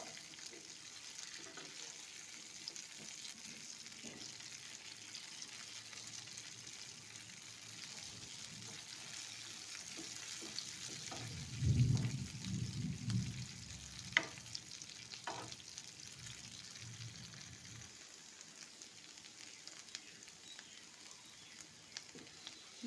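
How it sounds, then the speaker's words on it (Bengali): Boiled jackfruit seeds fry in a pan with a steady soft sizzle while a spatula stirs and scrapes them, with a louder burst of stirring midway and no talking. "এটাকে ভালো করে উল্টিয়ে পাল্টিয়ে একটু ভেজে নেব।"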